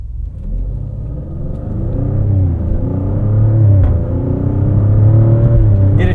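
A 2023 Maserati Grecale Trofeo performance SUV on the move, a deep engine drone rising and falling in pitch with gear changes over steady road rumble, heard from inside the cabin.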